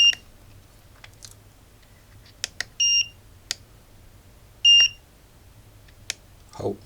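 Three sustained electronic alarm beeps, each about half a second, with a few short ticks and clicks in between over a low steady hum.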